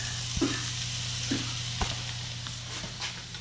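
Green, red and orange bell peppers sizzle in a hot pan, a steady crackling fry with a few soft stirring knocks, close and alone without speech.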